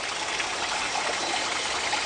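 Water flowing through a muddy, neglected watercourse on a nature walk, a steady broadband rushing and trickling that holds even throughout, fairly close, with no voices over it.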